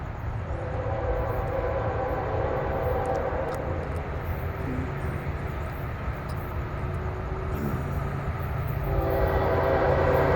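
Southbound 107 train rolls past close to a railroad crossing in Saint Augustine, a steady loud rumble of wheels and railcars that builds toward the end, with horn tones mixed in.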